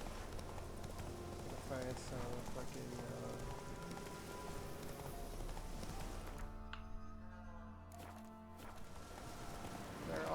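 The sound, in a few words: horse Roach galloping hooves in video game The Witcher III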